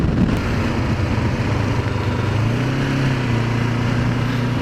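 A Kawasaki Ninja 500R motorcycle runs under way, its engine a loud, continuous close drone with wind rush, the pitch climbing gradually toward the end as it accelerates.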